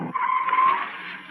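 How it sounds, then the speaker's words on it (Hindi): Car braking hard to a stop, a loud sustained tire screech and skid lasting about a second, heard up close just after a brief spoken voice. "गोपाल मियाँ, गाड़ी रोको।"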